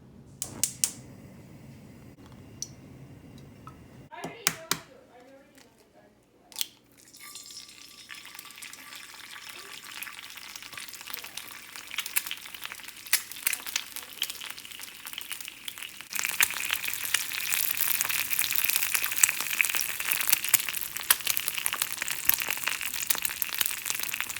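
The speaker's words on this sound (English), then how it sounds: "Now I'm gonna test the pan by frying an egg to see if it will stick or not." An egg frying in a freshly seasoned pan: after a few sharp knocks and clatters, a steady bright sizzle starts and grows louder and denser over the last stretch, with no talk.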